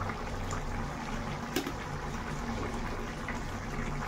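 Water pours into a cabbage curry in a pan, a steady close gushing and bubbling wash that runs evenly throughout.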